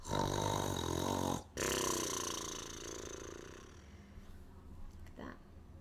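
A voice imitates a bear snoring, with a long rasping inhaled snore, a brief break, then a softer, fading rumble, close and fairly loud.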